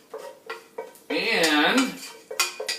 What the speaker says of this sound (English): We add the caramelized onions to the beans.